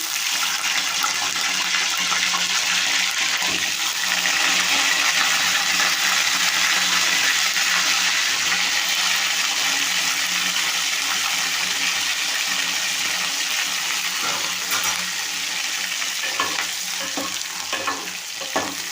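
Loud, steady sizzling of eggplant frying in hot oil, with occasional stirring clatter and scraping, continuous throughout with no talking.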